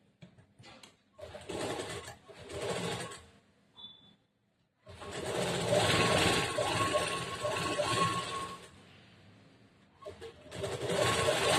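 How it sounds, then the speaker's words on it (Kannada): Sewing machine running a straight stitch along a seam in cloth for a blouse, heard in several loud whirring bursts separated by pauses, close up with no talking. "ಸ್ಟ್ರೇಟ್ ಆಗಿ ಒಂದು ಹೊಲಿಗೆ ಹಾಕೊಂಡ್ ಬರಬೇಕು"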